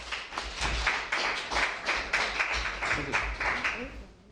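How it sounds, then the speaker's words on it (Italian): Applause rings out in a room as a speaker named Damiano is welcomed, a steady patter of clapping hands, moderately near and sustained throughout. "Accogliamolo con un applauso, Damiano."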